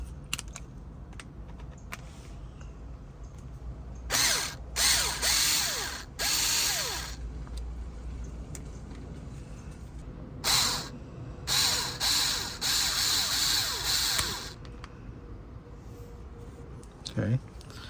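A power driver fitted with a T20 bit backs a screw out of a 2021 Tesla Model Y, giving several loud whirring, ratcheting bursts of a few seconds each, separated by quieter handling noise close by.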